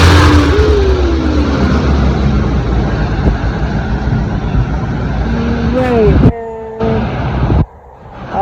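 City bus passing on a street in Buenos Aires, a loud close engine roar and rumble under traffic noise, with a horn-like tone and a voice near the end.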